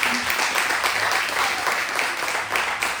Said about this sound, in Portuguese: Dê a sua melhor salva de palmas para Jesus.